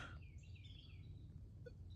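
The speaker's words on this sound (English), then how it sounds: "the birds out here chirping away." Faint high chirps and short tweets from a few birds over a low steady rumble outdoors, with no talking.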